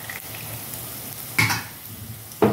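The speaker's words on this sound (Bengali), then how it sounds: "এখন আমি একটা তেজপাতা কেটে দিয়ে দিলাম, আর এখানটা আছে লবঙ্গ, দারচিনি, এলাচ আর একটুখানি জায়ফল দিয়ে দিলাম।" Whole spices of bay leaf, clove, cinnamon, cardamom and a little nutmeg fry in hot oil, a soft continuous sizzle with two sharper crackling bursts, no voices.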